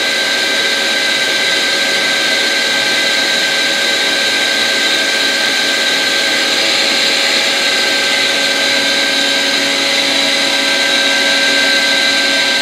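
A DMG Mori Sprint 42/8 linear CNC Swiss lathe spindle spins at 2,000 RPM, heard close up from about six inches as a steady, loud high-pitched whine with a constant tone and no pauses.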